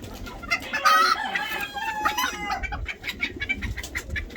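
Chickens cluck loudly and close by in an irregular, busy stream, with a brief crowing-like call mixed in among the farm birds.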